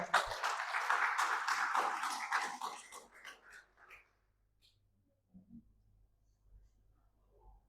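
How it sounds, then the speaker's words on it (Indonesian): A church congregation applauds with dense clapping for about three seconds, then it tapers off, leaving near silence with faint low hum and scattered small sounds. "Tepuk tangan bagi Allah kita."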